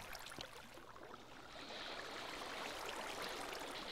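Flowing water in the Minecraft video game, heard as a faint, steady rushing stream with a soft trickling hiss that swells slightly partway through, alone without speech.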